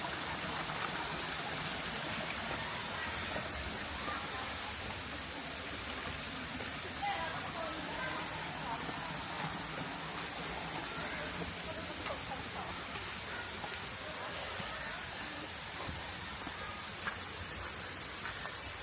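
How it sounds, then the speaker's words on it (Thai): Steady broadband rush of flowing water from the Chantathen waterfall fills the whole stretch, running continuously without pause. "ทางน้ำไหลแบบนี้นะ"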